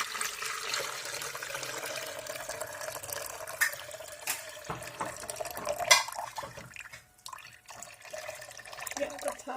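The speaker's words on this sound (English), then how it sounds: "Here I've taken a jug and I'll be adding half jug of lukewarm water." Lukewarm water pours into a jug as the liquid base for pani puri, a steady watery rush with faint drips near the end; a person talks over it at times.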